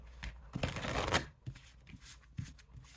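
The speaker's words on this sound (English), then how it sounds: "Just shuffling your cards, just very like hyped up" Tarot cards are shuffled by hand for a pick-a-card reading, making quiet, close riffling and flicking bursts separated by short pauses.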